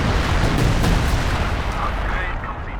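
A time-on-target artillery barrage in Company of Heroes 2, heard as a dense, continuous wall of booming, rumbling blasts that stays loud throughout with scattered sharper cracks, while a voice talks over it.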